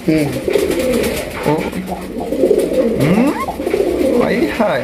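Male pigeon coos repeatedly in a courtship display, loud and close, with rolling throaty calls that rise and fall in a steady series.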